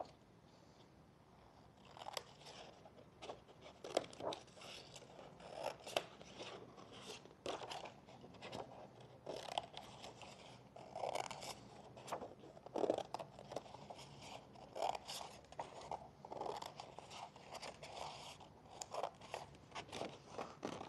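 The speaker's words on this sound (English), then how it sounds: "if you do have scissors, we're gonna cut the teeth out" Repeated crisp snipping and crunching of scissors cutting teeth shapes out of paper, close up, in an irregular rhythm with short pauses between cuts.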